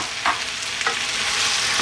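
Eggplant and tomato sauce with cooked penne tossed in a hot pan, giving a continuous close sizzle and a few soft scraping stirs, with no speech.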